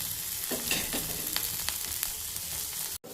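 Green chillies, tomato, onion and curry leaves fry in a pan, giving a steady close sizzle with a few soft stirring scrapes and clicks, and no voices.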